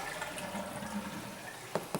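A film processor's dump valve drains liquid with a steady low rush and gurgle, then two short knocks at the end.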